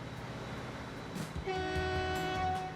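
A train horn sounds in the Transport Fever video game as a freight train departs, a long steady blast rising over low rumbling rail noise, loud and close, with no talking.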